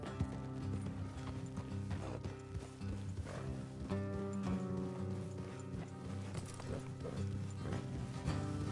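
Horse hooves clip-clop in a steady running rhythm in the video game Red Dead Redemption, with occasional whinnies and mechanical clatter, fairly quiet overall.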